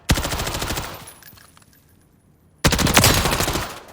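A subsonic rifle fires in Call of Duty Modern Warfare III with two rapid bursts of closely spaced shots, loud and near, separated by a quieter gap of mechanical clatter and fading echo.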